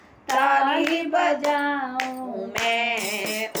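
Hands clap a few sharp times at a devotional kirtan, punctuating a prominent singing voice that carries on over and between the claps.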